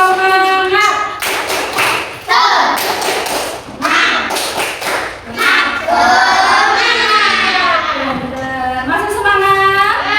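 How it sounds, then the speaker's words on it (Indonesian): A class of children performs a rhythmic spirit clap, with bursts of sharp, patterned hand claps alternating with voices chanting and a teacher talking, close and loud. "Tepuk semangat dulu."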